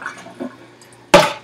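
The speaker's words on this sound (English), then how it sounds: "we're ready to take this out of the water and set it aside in a slanting position" Soaked raw beef is lifted out of its water, with light drips and small water sounds followed by one sudden loud splash near the end.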